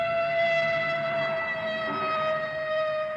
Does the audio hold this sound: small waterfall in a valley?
no